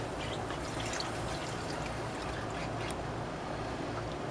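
A cup of whole milk pours steadily into a pan for a ranch chicken bacon stuffed shells sauce, a continuous close liquid rush with no talking.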